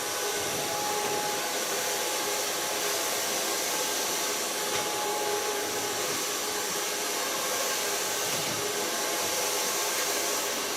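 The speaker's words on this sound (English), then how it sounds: "En mijn blow dryer is of Kione." A Kione blow dryer runs continuously while drying long hair, producing a steady, close, airy whoosh with a faint motor whine and almost no variation.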